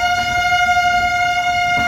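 A loud, steady train horn blares continuously while a local train rumbles past close by, racing the Tamil Nadu Express in India.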